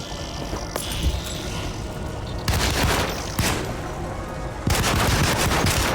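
Gunfire in the video game Alone in the Dark, loud bursts of shots and booming blasts in several dense volleys, close and harsh with brief lulls between them.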